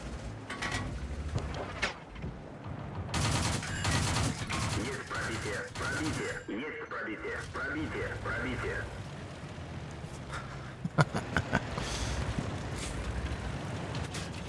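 Tank cannon and machine-gun fire in World of Tanks crackles in rapid bursts and repeated shots against an enemy, layered under someone talking excitedly and fairly loud throughout.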